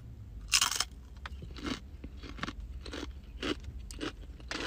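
A super spicy black tortilla chip is bitten and chewed up close, loud sharp crunches followed by a rhythmic series of softer crunching chews.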